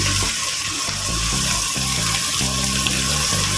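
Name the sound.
tap water running for cooking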